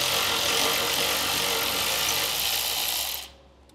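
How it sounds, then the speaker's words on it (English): A ratchet wrench turns a 10 mm ground bolt off a 2023 truck frame rail, with a continuous rapid clicking close by that stops abruptly near the end. "we're gonna find a ground attached with a 10 millimeter bolt. So we'll go ahead and get this removed"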